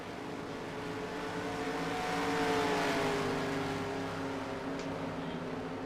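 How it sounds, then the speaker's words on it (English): Several race cars in the racing video game NASCAR Racing 2003 drone and rev together at Pocono under caution, a steady, continuous roar swelling slightly louder midway through, with no voices. "You can hear the other cars, they're kind of using the higher gears, and Flashbang, he's just like full revving"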